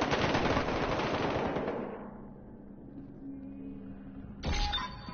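An MG36 machine gun in Battlefield Hardline fires a loud, dense sustained burst for about two seconds, then trails off into a lower rumble before a second sharp burst breaks in near the end.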